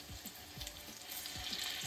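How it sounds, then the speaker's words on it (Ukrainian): Minced-meat cutlets made with semolina frying in a pan, a soft continuous sizzle with small crackles and scraping stirs repeating at a steady rhythm, close up and alone. "Смажимо декілька хвилин до золотистої скоринки, а потім другу сторону перевернемо і будемо смажити під кришкою."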